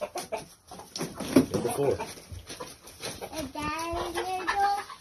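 Chickens on a farm cluck and squawk excitedly over a nearby black rat snake, in a busy mix of calls with someone talking over them.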